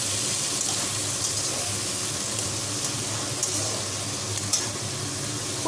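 Local river prawns fry in hot oil in a wok, a dense, steady hiss and sizzle heard up close with occasional small pops and no voices.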